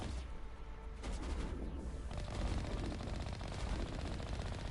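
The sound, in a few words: Mako vehicle gunfire at pirates in video game Mass Effect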